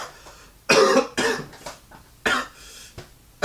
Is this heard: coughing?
yes